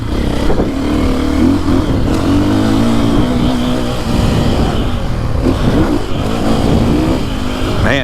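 A 450cc motocross bike accelerates hard in third gear at the Briarcliff MX track. The engine roars loud and close throughout, its pitch climbing and wavering with the throttle, with no voices.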